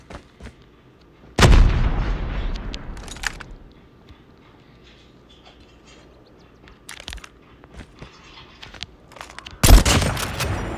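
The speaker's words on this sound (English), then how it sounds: "Enemy just dropped a bomb." Bombs explode in the Call of Duty Mobile shooter game, two loud booming blasts several seconds apart with rumbling tails, separated by scattered distant gunfire and small impacts, with no speech.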